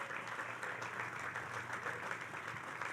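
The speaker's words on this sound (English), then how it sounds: "Let's give them a big round of applause." An audience at a groundbreaking ceremody for a new Belmont Park arena claps steadily, a soft, even patter of many hands heard from some distance, continuous throughout.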